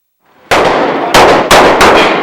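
Four sharp, loud gunshots at an indoor shooting range, spaced unevenly about half a second apart, each a hard crack followed by a short ringing tail, with no voices.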